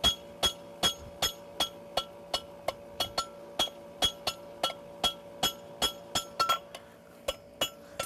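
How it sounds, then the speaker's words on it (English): A blacksmith's hammer rings on a horseshoe clip held against an anvil, forging the clip to a point: about twenty sharp metallic strikes in a steady rhythm, close and clear, each leaving a brief ringing tone, with no talking. "Now I come up the middle with the corner of my hammer."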